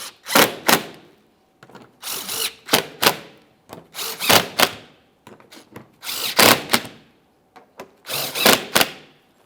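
A power drill drives the mounting bolts of the engine splash shield on a 2008–2017 Mitsubishi Lancer 2.4L, making about seven short, loud whirring bursts close by, each separated by a brief pause.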